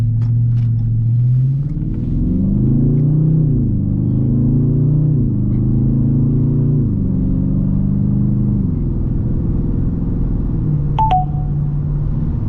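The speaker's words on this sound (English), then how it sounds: "that sound was Waze telling me that I'm speeding" A short two-tone electronic chime from the Waze navigation app's speeding alert rings out once over the steady low rumble and hum of a Dodge Charger driving on the road.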